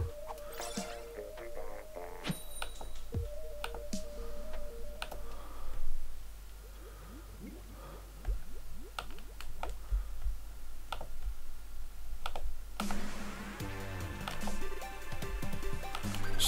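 Clicks and ticks of a computer keyboard and mouse at a PC while arranging a streaming setup, with Splatoon 2 Splatfest game music and effects playing throughout; the clicks come in scattered bursts of varying spacing.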